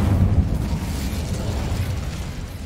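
Incendio fire spell cast in Hogwarts Legacy, a continuous loud roaring burst of flame with heavy low rumble, steady for nearly three seconds and fading slightly at the end.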